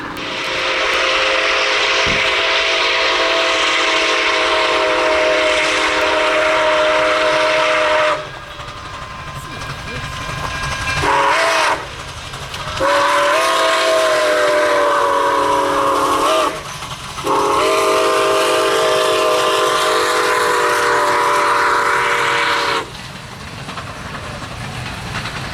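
Nickel Plate Road steam locomotive NKP 765 passes Smith's Crossing near Owosso, Michigan, its loud chime whistle blowing in several long blasts separated by short breaks over a steady roar of the moving train.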